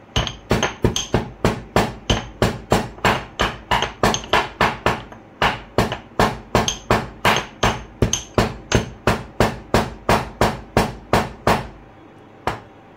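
Whole spices for malpua are coarsely crushed with a mortar and pestle, about thirty sharp, evenly spaced pounding strikes sounding close and loud before a final lone knock.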